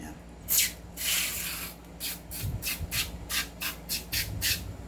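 Dissolving foam cleaner sprayed onto an airsoft pistol during maintenance: a longer hiss followed by a series of short rhythmic spray bursts, close up.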